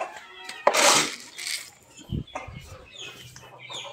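Rhode Island Red chickens cluck at feeding time, with short close clucks and rustling, scattered bursts over a few seconds and faint background noise.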